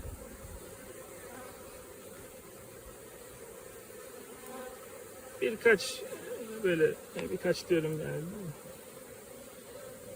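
Honey bees hum steadily in a low drone around the entrance of a black hive at dusk as workers walk back inside, with someone speaking partway through over the buzzing.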